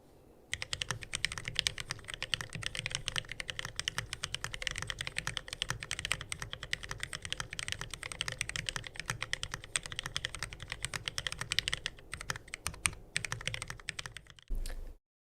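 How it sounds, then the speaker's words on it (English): Steady, rapid typing on a Keeb.io Nyquist mechanical ortholinear keyboard, dense clacking keystrokes close up for about fifteen seconds, stopping abruptly near the end. "time for a quick typing test."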